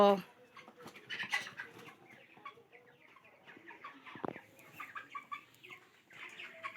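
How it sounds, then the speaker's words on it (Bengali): Many chickens of mixed sizes clucking and chattering together nearby at a poultry farm, a busy flock with overlapping calls and a few louder squawks. "অনেকগুলো ছোট ছোট বড় মিলি মুরগি আছে"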